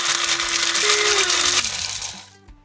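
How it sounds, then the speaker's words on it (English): A coffee grinder grinding dried berries whirs loudly with a high motor whine that rises and then shuts off, winding down to quiet. "We're going to pour those dried berries into the coffee grinder."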